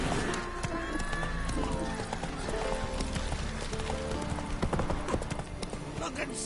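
Roach the horse gallops in The Witcher 3, hooves clip-clopping in a quick, steady rhythm up close. A whinny rises near the start, and game ambience and voices sit underneath.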